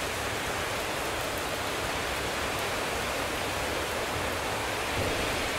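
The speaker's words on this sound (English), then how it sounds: "Let the thunder rumble and the raindrops fall, reminding you of your resilience and inner fortitude." Steady rain falls in a dense, even hiss throughout, with no distinct thunder rumble standing out; a continuous wash of rainfall during a thunderstorm, loud and unbroken, with no voices.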